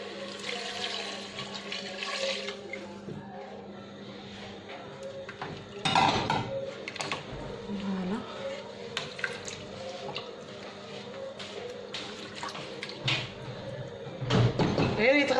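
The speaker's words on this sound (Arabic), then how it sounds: "نزيدو الماء." Water poured into a chicken tajine in a home kitchen, with splashing and trickling, clinks of the pot, and someone speaking over it.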